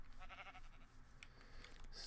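A sheep in a blocky survival video game bleats faintly several times in a wavering rhythm amid game ambience and low background noise.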